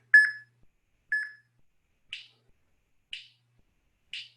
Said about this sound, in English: Our victory beeps.